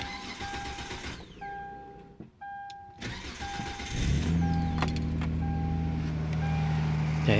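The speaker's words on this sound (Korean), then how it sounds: "자, 엔진 시동을 걸었습니다." A car that sat parked outside overnight at minus three degrees is started on a cold morning: soft dashboard chimes sound, then the engine cranks, catches and settles into a steady, even idle close by.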